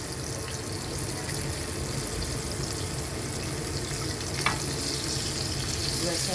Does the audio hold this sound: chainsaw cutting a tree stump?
no